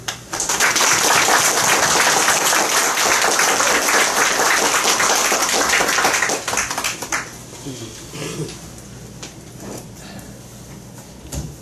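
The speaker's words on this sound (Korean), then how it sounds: "큰 박수와 할렐루야라고 하는 인사로 우리가 맞아주시기 바랍니다" A church congregation claps loudly to welcome the pastor at a Sunday service, a dense burst of applause that fades after about six seconds into quieter room noise.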